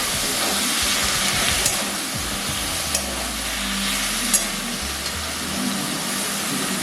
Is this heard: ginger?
yes